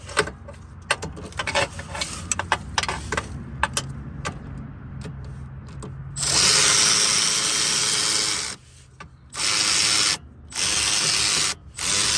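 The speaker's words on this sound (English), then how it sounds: "install the bottom bolt as tight as my ratchet will do it, which is at 60 foot-pounds" A hand ratchet works on a bolt in the steering of a 2004 Mazda RX8, with rapid clicking pawl bursts and clanks of tools early on, then several louder sustained power-tool whirs in repeated runs.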